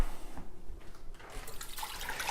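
A steady stream of tap water, about two and a half cups, pours and splashes into a metal cooking pot in a home kitchen, continuous and fairly close.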